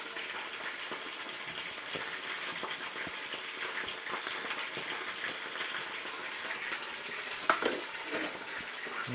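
Onions fry in oil in a saucepan on the heat, giving a steady, close crackling sizzle that runs unbroken, with a few light scrapes and clinks of stirring and no voices.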